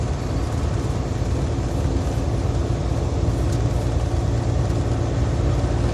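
A truck cruising at 65 mph on dry highway pavement after a Utah blizzard gives a steady, loud low rumble of engine and tire roar that holds unbroken for the whole stretch, with no talk over it.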